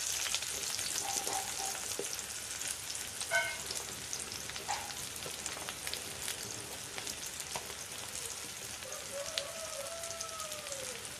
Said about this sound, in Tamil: இதுக்கு ஃபர்ஸ்ட் ஒரு கடாயில் கொஞ்சம் எண்ணெய் ஊற்றிட்டு அது கூட வெங்காயம் சேர்த்துக்கலாம்.